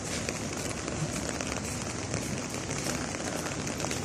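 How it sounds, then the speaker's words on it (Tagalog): Steady rain falls on a Sunday walk up a hill to a Catholic church, a dense continuous hiss and patter that stays even and close throughout with no talk over it. "diba umuulan"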